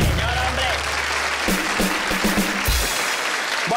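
A studio audience at a television comedy talk show breaks into applause, a steady wash of clapping with a low hum at the start and a few voices and thumps mixed in.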